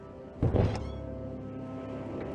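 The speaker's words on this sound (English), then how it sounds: "A door." A door in the I SPY Fantasy game closes with a single dull thunk and a brief rattle, followed by a quiet, steady background hum.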